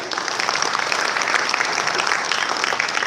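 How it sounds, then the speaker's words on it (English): A conference audience at an economic development session gives the speakers a steady round of applause, dense even clapping sustained for a few seconds. "Please big applause for our speakers."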